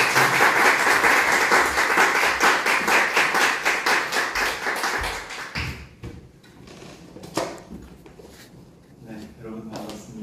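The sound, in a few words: audience applause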